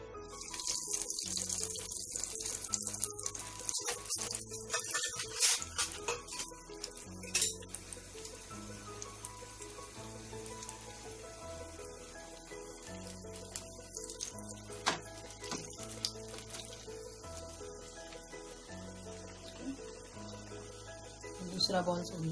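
A cheese corn ball drops into medium-hot oil in a kadhai and deep-fries with a bright, steady crackling hiss that swells at first, while light instrumental music plays underneath.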